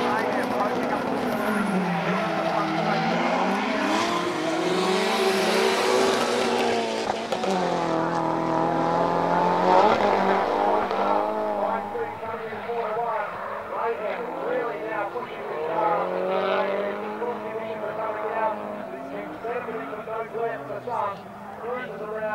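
Race cars roar around a track in a 2007 Super GT-style event, engines whining and shifting continuously while a commentator talks excitedly over the racing throughout.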